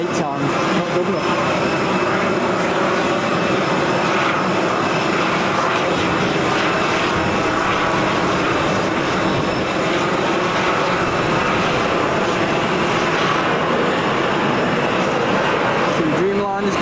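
Boeing 787 Dreamliner departing Manchester Airport in heavy rain, a loud continuous jet engine roar filling the scene throughout, with talk faintly underneath.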